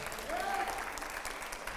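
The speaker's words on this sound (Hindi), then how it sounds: "ओके, जोरदार तालियां हो यहां पर।" Studio audience clapping on a TV news debate show, a brief burst of applause under a host's voice, with a faint whistle-like tone rising through the middle.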